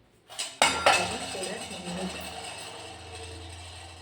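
Cooked mixed vegetable bhaji, rice and chapati being served onto a plate: close clinks and scrapes of a utensil against dishes, a few sharp knocks at first, then softer rattling.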